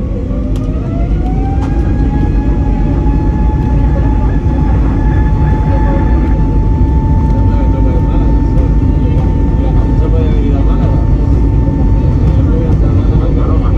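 Inside an Airbus A320neo cabin during takeoff, a loud, steady engine roar fills the clip, with rising whine tones that settle into a constant hum.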